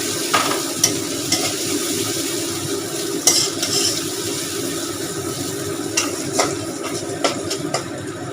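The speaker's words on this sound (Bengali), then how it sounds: "পেঁয়াজটা একটু হালকা করে ভেজে নেব।" Onions fry in a pan with whole garam masala, a steady soft sizzle broken by occasional clinks and scrapes of stirring, close up and without speech.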